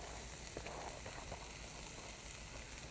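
Thinly sliced cabbage sizzling in a hot pan, a steady soft frying hiss with faint crackles and stirring, quiet and continuous.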